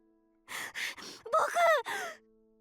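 A sharp gasp from a character in the visual novel CHAOS;CHILD, several quick breathy intakes followed by a short tense vocal cry, set against quiet game background music.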